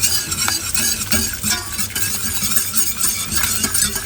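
Melting butter whisked to emulsify a beurre blanc sauce over medium heat with shallot or onion, a close, continuous brisk stirring and sizzling with light metallic clinks, no voices.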